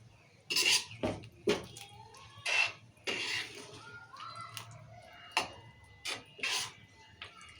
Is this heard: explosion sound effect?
no